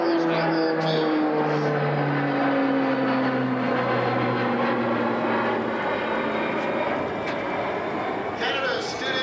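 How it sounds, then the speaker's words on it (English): A Harvard II turboprop trainer flies over an airshow at London International Airport, its engine a loud sustained drone with a slowly falling pitch as it passes by. "The agile Harbour 2 turboprop trainer is the aircraft of choice for the early stages of the NATO flight training program here in Canada"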